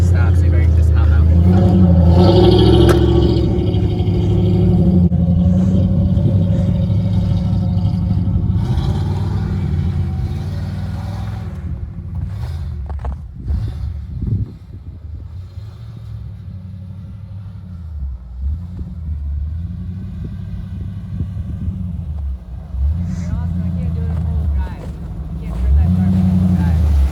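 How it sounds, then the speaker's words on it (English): A lifted Ford F150 truck in four-wheel drive spins donuts off-road on bald tires, its engine roaring loudly at first and then rumbling and revving in waves while people talk inside the cab. "We can just spin a real nice donut."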